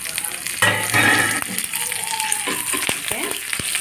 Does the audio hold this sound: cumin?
yes